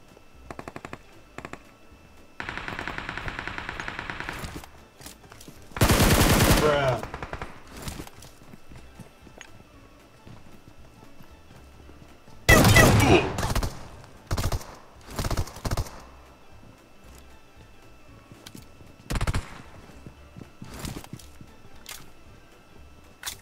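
Video game gunfire comes in a few separate bursts: a short machine-gun rattle, then sharp loud volleys of shots spaced out, with long quiet gaps and small clicks between them.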